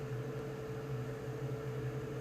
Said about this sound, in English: I put it in the microwave for a minute